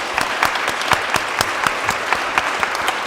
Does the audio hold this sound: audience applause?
yes